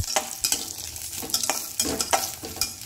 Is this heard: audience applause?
no